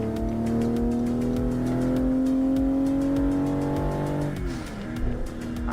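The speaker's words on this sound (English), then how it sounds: "I'm driving a Toyota Supra MK5." A Toyota Supra MK5 being driven in Japan, its engine holding a steady hum with a rising tone that drops off near the end, heard from inside the car with no talk.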